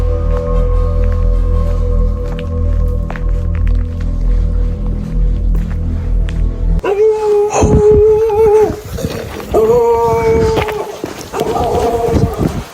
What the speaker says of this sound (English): Oh, there's a freaking dog.